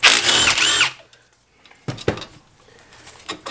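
Half-inch cordless impact wrench spinning off rear knuckle bolts during a suspension bushing job, a loud burst of hammering followed by quieter metallic clinks and clatter of bolts.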